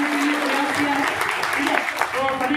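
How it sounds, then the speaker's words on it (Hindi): Crowd clapping at an outdoor protest rally in a park, honoring volunteers; steady applause runs under a voice speaking over it throughout. "उनके लिए एक बार जरूर तालियां बजा दीजिएगा।"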